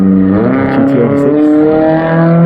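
A Toyota GR86 drives past at Fuji Speedway, its engine note loud and close with a steady, slightly rising tone across the whole moment.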